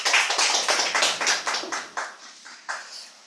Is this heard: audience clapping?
yes